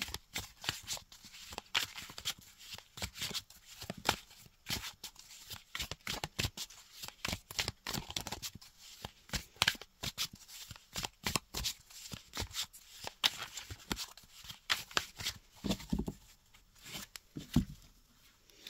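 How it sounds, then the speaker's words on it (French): Tarot cards that had been in order are mixed by hand in a quiet room. Rapid papery riffles and slides repeat in quick irregular bursts for the whole stretch, close and fairly soft, with no talking. "De les mélanger correctement parce que vu qu'elles étaient dans l'ordre"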